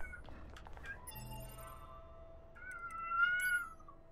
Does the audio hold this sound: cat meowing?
yes